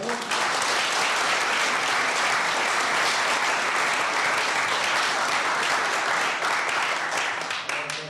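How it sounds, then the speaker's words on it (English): Dense, sustained audience applause for a panel at a college alumni anniversary event, loud and even throughout before tapering slightly at the end. "let's have a round of applause for our panel"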